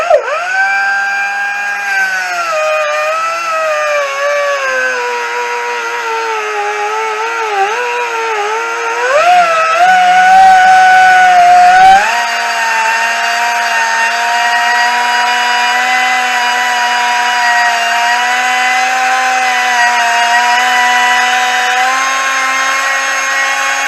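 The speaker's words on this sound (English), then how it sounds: "just take a cut-off wheel and basically cut off those nubs there on top" A cut-off wheel grinds nubs off the studs of a 2021 Chevy Silverado during a leveling kit install, giving a loud continuous high-pitched whine that dips in pitch under load midway, then holds steady.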